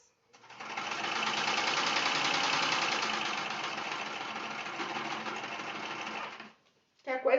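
A sewing machine stitches fabric for a small quilted mug rug, running steadily and close for about six seconds before stopping. A brief voice follows at the end.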